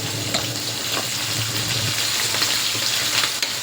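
Prawn pulao fries in a pan while it is stirred and turned, giving a steady loud sizzle with occasional soft scraping knocks of the utensil.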